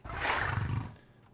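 A big cat's roar from the Wizard's Animals mod in the Minecraft video game, a single loud, rough, sustained bellow lasting about a second before tapering off.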